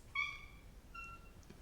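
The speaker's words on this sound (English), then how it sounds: "and that's a cat." Two short cat meows, the first louder and clearer, the second softer after a pause, heard against a quiet background.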